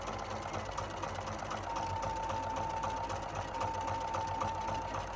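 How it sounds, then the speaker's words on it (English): A Viking Ruby 90 embroidery sewing machine running steadily through a tack down stitch on appliqué letters, a close, continuous mechanical hum with rapid needle rhythm and no talking. "we're coming in the home stretch for the tack down stitch"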